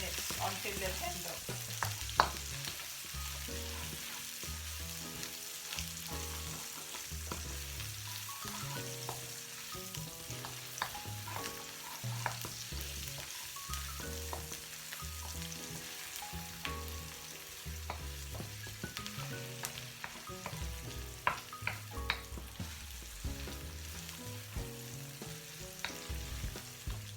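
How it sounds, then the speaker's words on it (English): Onion frying in a pan for couscous, a close, steady sizzle broken by frequent stirring scrapes and clatters, lasting the whole stretch without talk. "So we're going to fry this for about 3 to 4 minutes until they're tender."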